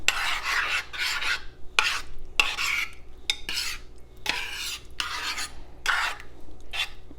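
Stroganoff ingredients stirred by hand in a crock pot, a spoon rasping and scraping in repeated strokes with brief pauses between them, fairly close with no talk.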